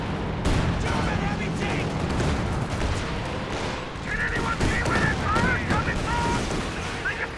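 Artillery and gunfire erupt in a Company of Heroes 2 battle as a barrage pounds a fighting pit, with a dense, continuous rumble of blasts and crackling shots overlapping throughout, loud and chaotic, beneath someone talking.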